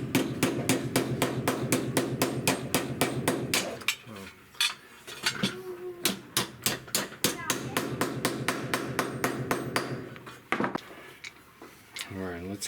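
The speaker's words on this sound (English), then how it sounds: "So we're going to start with a piece of copper pipe. Just hammer it flat." Rapid, ringing metallic blows of a hammer flattening a piece of copper pipe, struck in fast bursts with brief pauses, close and loud, with someone talking briefly between strikes.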